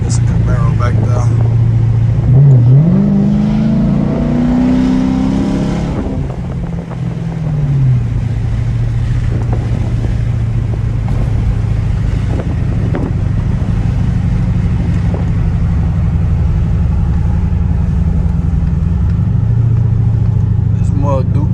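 A straight-piped Dodge Charger R/T with a 5.7 V8 accelerates on the street, its exhaust note rising in pitch as it revs, then settling into a steady, droning cruise with wind noise. Someone talks over it.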